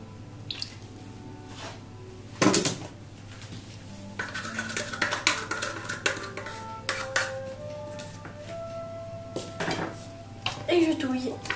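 A utensil stirs and scrapes through cake batter in a bowl for a pineapple and pear cake, making irregular clinks and knocks against the bowl, with one sharper clatter early on and no talk over it.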